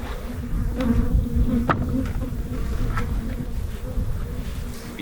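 Bees buzz around beehives outdoors in the bush: a dense, continuous drone with individual insects passing close to the microphone.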